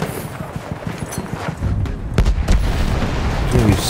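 Gunfire and a sniper shot in Battlefield 1 on Xbox One, with loud booming reports that thicken after the first second and a half into a heavy, continuous battle din.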